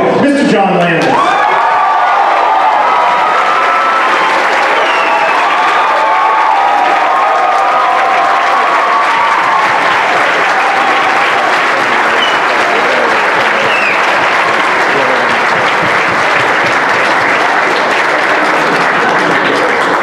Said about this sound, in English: Please give a warm round of applause for the writer, director, and producer of An American Werewolf in London, Mr. John Landis